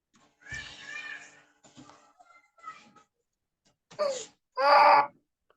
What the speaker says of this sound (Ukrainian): Ну, звичайно, так плаче маля.